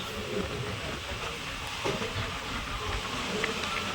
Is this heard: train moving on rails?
yes